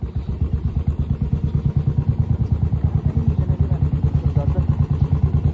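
A motorcycle rides over a very rough, broken road, its engine thumping in a fast, even tak-tak rhythm of loud clattering pulses close by, with no talk.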